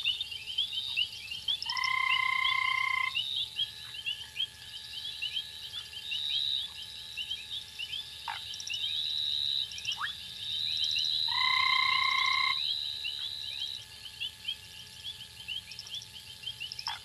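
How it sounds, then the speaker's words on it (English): Foam frogs call from a tree over a pond in Africa, giving a few clear croaks and short whistled notes over a steady chorus of insects and night ambience. "In a tree over the pond, a pair of foam frogs are making their nest."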